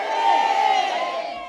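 A crowd gathered at dusk in downtown Yanceyville for a balloon release makes a sustained, fairly loud murmur of many voices with some raised shouts. It stays steady throughout and fades slightly at the end.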